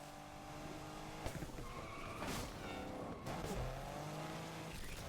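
A car in Need for Speed Unbound races along with a droning engine, tires squealing and skidding through corners, with pitch shifts as it slides and regains grip; the engine tone is steady and fairly loud.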